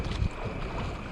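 Sea wind buffets a small fishing boat off Sendang Biru in south Malang as the weather turns cloudy, a continuous close rushing roar with a low thump near the start.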